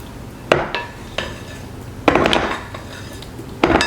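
A metal spoon scrapes and clinks against a bowl while stirring potatoes to coat them in oil, giving a few sharp knocks and a longer rattling scrape, close up with no talking.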